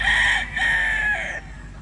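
A Raptor Sweater Allen Roundhead gamecock crows once, loud and close, a single drawn-out call that fades near the end with no voices over it.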